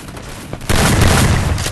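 Gunfire in the Free Fire video game, a sudden loud burst of shots that begins partway through and sustains to the end, close and dense, after a quieter stretch.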